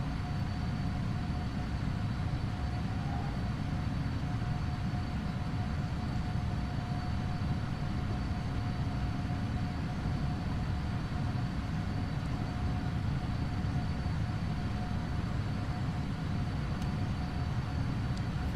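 Simulated twin jet engines of a PMDG Boeing 777-200LR in a flight simulator, a steady loud broadband roar with a faint whine, continuous and unchanging throughout.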